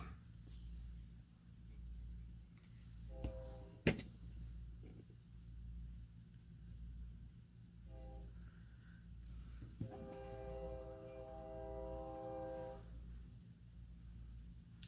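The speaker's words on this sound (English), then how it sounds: "Can't get used to the weird sound of the train anymore." A low, steady rumble of a passing train with a couple of brief horn blasts in the distance.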